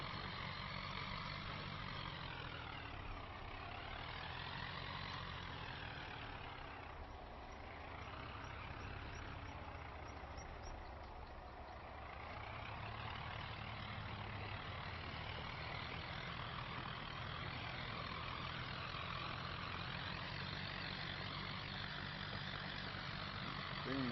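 Tractor pulling a plough in Farming Simulator 25, a steady low engine drone with slow swells in tone, continuous and fairly quiet.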